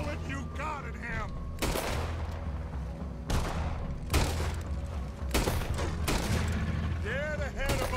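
Repeated heavy gunshots from Red Dead Redemption 2 ring out in uneven bursts, loud and close, alongside in-game voices and background game sound.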